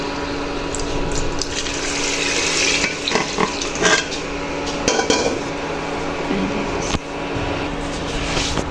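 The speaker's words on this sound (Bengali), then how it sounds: "ভাজা ভাজা হয়ে গেছে, এখন যে পানি দিয়ে দেব।" Water pours into a pan of frying dried fish, giving a loud rushing hiss and bubbling sizzle close up, with some clanks of utensils against the pan.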